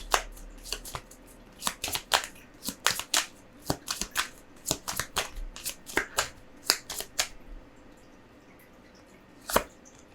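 Tarot cards shuffled close up in a steady run of crisp riffling bursts for about seven seconds, then a pause and one last burst.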